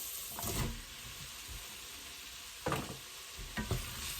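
Mushrooms and peppers sizzle in a pan for mushroom soup, a soft steady frying hiss broken by a few louder scrapes and clunks as a utensil stirs, close by and without talk.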